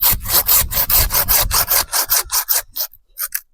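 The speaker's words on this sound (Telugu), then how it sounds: "చూడండి చాలా పవర్ఫుల్ కట్టర్ అనమాట." A powerful cutter saws through a thick plant stem in loud, close, rhythmic rasping strokes, about a dozen in quick succession, slowing and breaking up toward the end with no voices.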